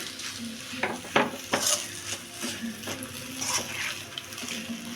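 Noodles being stirred in a pan with a utensil, light scraping and clinking strokes against the metal over a soft sizzle, close and steady with no talk.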